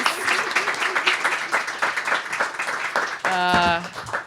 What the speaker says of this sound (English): let's have a round of applause for Cindy and Denise.